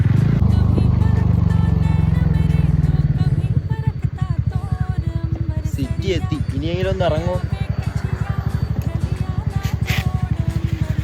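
A motorcycle idles and runs steadily with a loud, even pulsing engine note while someone speaks over it near the bike.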